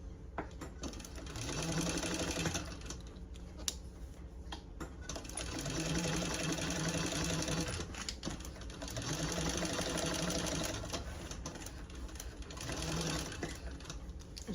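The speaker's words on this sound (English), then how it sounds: "There's no problem at all sewing over those connectors." A home sewing machine stitches through a fancy tote bag over its strap connectors, running in several sustained whirring bursts with brief pauses between, close and steady with no talk.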